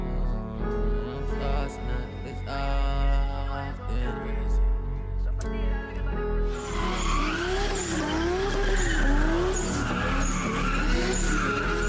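A car drifts with squealing, skidding tires and engine noise, mixed into loud hip-hop music with a heavy beat.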